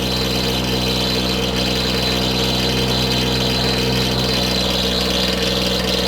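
A standard lapidary cabbing wheel spins steadily while cutting opal, a continuous motor hum with a bright whirring hiss, close, even and unbroken throughout with no talking.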